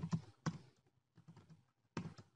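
A handful of soft keystrokes on a computer keyboard tap out a short command in quick bursts separated by brief pauses, close and quiet.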